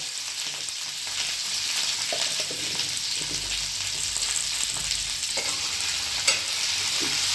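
Salted ridge gourd fries steadily in a pan over low gas, giving a continuous even sizzle and hiss with faint occasional stirring scrapes and one small clink, no voices.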